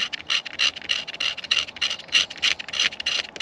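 Wood being scraped down to the resin by hand at a winter woodland camp: repeated rhythmic rasping strokes, close and fairly loud, about three or four per second with short pauses between.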